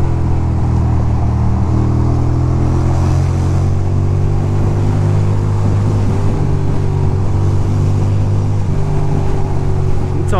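Ducati motorcycle cruising home at night, a steady loud engine drone with wind rush, close and continuous, minor shifts in pitch as the bike rolls along.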